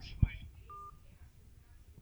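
A short telephone keypad tone sounds once during a live call-in show, following a soft knock and faint background noise.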